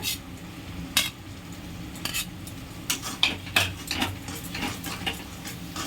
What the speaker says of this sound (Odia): ଆଉ 1-2 ମିନିଟ୍ ପାଇଁ ଫ୍ରାଏ କରିବା ମସଲାକୁ